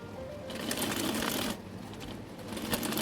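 Sewing machine stitching lace onto doubled trouser fabric, a close rapid mechanical whir in two running bursts with a short pause between them, with no speech over it.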